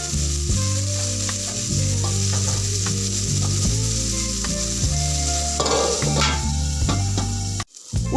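Bitter gourd pieces frying until lightly browned in a pan, a dense continuous sizzle with regular scraping strokes of a spatula, close and loud, briefly cut near the end before resuming.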